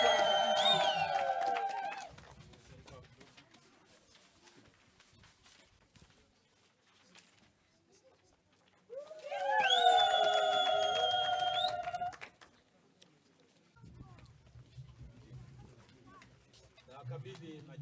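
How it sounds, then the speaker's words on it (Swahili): A crowd at a church diocese ceremony breaks into warbling, high-pitched ululation over clapping in two loud bursts separated by quieter murmuring. "Makofi mengi na vigelegele."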